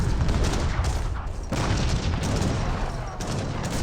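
A heavy artillery volley in Age of Empires 3 booms out in a thick, continuous barrage of cannon fire and blasts, loud and close, with overlapping explosions throughout.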